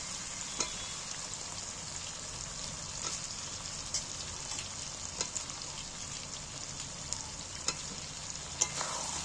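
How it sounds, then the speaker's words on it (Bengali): Fried potatoes are stirred into a chicken curry masala sizzling in oil, giving a steady close frying crackle with occasional sharp scrapes and clinks of the spoon against the pan. "এবার আমি ভাজা আলুগুলো এর মধ্যে তুলে দিচ্ছি।"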